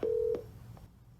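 Telephone keypad tones dial on a speakerphone: two clear, steady beeps a moment apart, the first long and the second short, then a faint third blip fading into quiet line hiss.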